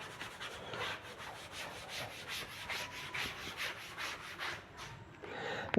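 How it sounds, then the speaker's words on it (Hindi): An object is rubbed by hand in rapid, rhythmic back-and-forth strokes, a steady close scraping that continues for several seconds with no talking. "अब मैं इसको रब कर देता हूं"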